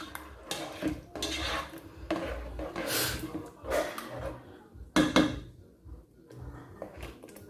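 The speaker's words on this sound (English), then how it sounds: "So we are gonna stir the tomatoes inside a little bit. I want it to cook." Tomatoes being stirred in a metal cooking pot for a Pangasius fish stew, with a spoon repeatedly scraping and knocking against the pot in irregular, close-up clatters, alone without talk.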